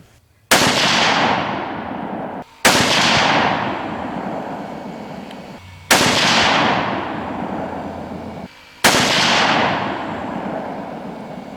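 .260 Remington rifle firing 140-grain SST ammunition outdoors: four loud, sharp reports spaced a couple of seconds apart, each followed by a long decaying echo rolling away into the distance.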